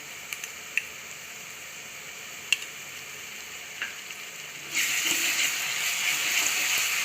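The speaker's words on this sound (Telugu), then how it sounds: "అల్లం పేస్ట్ కొంచెం పచ్చివాసన పోయే వరకు వేయించుకుందాం" Ginger paste frying with onions in a pan for a green chicken curry, a soft steady sizzle with a few faint clicks, then a louder hiss that swells near the end and keeps going.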